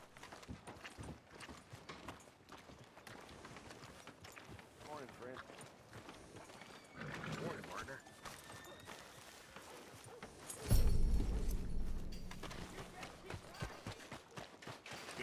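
Horse hooves clip-clopping at a steady trot in Red Dead Redemption 2, rhythmic and moderately close, running under character dialogue and a louder burst of sound late on.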